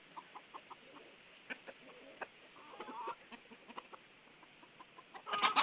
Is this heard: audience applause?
no